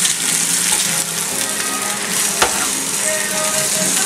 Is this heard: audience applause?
no